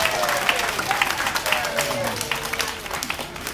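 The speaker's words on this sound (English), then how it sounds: "So if everyone wants to give Lilli a big round of applause" Audience applause at a sea lion show on Armed Forces Day, a steady, moderately loud wash of clapping that runs through the clip with a voice speaking over it.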